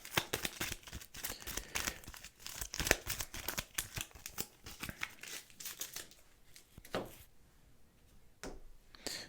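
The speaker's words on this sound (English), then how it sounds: "Let's go ahead and shuffle this back up." A deck of board game cards for a Star Wars: The Clone Wars solo game is shuffled up close, producing a rapid run of crisp riffling bursts, then a few separate slaps and rustles.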